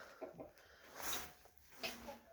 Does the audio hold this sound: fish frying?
no